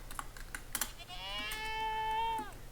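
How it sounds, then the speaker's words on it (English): A screaming goat in the Minecraft video game lets out one long, rising, strained bleat that builds to a loud scream and cuts off. Light tapping and clicking come before it. "they will make random sounds like that. That is how you will know you have found a screaming goat."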